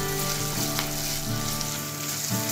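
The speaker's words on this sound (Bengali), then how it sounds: "সামান্য একটু ভেজে নিচ্ছি সেদ্ধ ছাড়া" Chicken noodles frying lightly in a pan with a little salt, giving a steady, close sizzle with soft crackle throughout and a few faint stirring scrapes.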